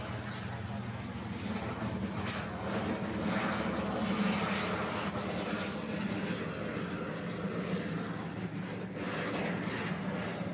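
A Japan Airlines 767 jet airliner at Honolulu airport roars steadily in the distance, a faint, broad engine rumble swelling slightly midway, with people talking over it.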